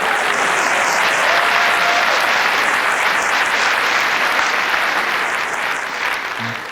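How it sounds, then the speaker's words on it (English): Sustained applause from a large audience, loud and steady throughout, easing slightly toward the end. "that applause was for me, by the way"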